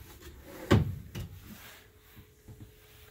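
A single wooden slide and knock as a pull-out storage tray in a 2017 Highland Ridge Highlander HF38RGR RV bedroom is pulled open, followed by a softer bump, then quiet.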